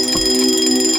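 An alarm clock rings continuously with a steady, bright electronic tone and buzzing harmonics, loud and close throughout, with no voices.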